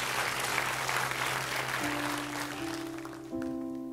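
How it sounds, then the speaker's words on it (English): An audience applauds steadily during a church service, a dense wash of clapping, while sustained musical tones rise beneath it toward the end. "Let's give God a round of applause for decisions made."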